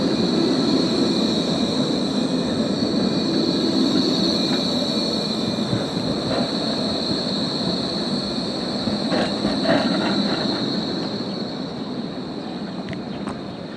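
A train bound for Schönefeld Airport in Berlin runs with a loud, steady rumble of wheels on rails, a sustained high metallic squeal above it and occasional clanks, with no talking.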